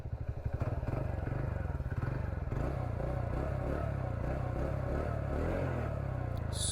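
A TVS NTORQ 125 Race Edition scooter engine idles close by, a steady, continuous low rumble with no talk over it.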